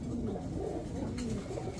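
Four white racer homing pigeons cooing steadily in a low, continuous murmuring drone, close by and moderately quiet, with no talking.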